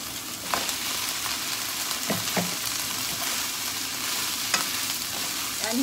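Fuki stalks stir-fried in a pan, a steady close sizzle with scattered scraping stirs and light clinks from the utensil, no voices.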